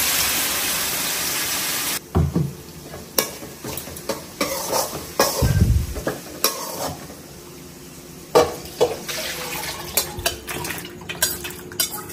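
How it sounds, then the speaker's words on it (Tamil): Tomato and curry leaves sauté in a pan. A brief burst of sizzling opens, then a spoon clanks and scrapes against the pan in irregular knocks, some sharp and close. "கொஞ்சம் உப்பு போட்டுட்டு நல்லா வதங்குற வரைக்கும் வெயிட் பண்ணலாம்."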